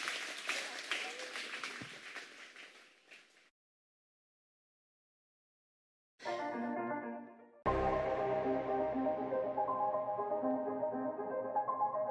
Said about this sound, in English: give Jesus another big round of applause